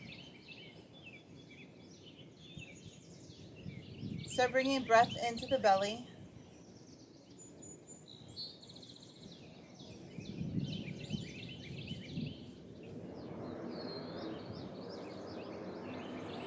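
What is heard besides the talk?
birds singing outdoors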